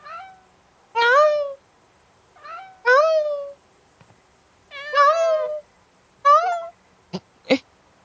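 A cat in the farm video game Dreadfields meows repeatedly, with several clear, drawn-out meows at close range followed by two short, sharp chirps, alone with no talk.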